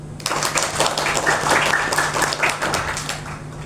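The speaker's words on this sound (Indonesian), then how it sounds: "Tepuk tangan dong" An audience applauds after a Chairil Anwar poem is recited at a reading-promotion talk in Banten: steady, dense clapping holds for several seconds over a low, constant electrical hum.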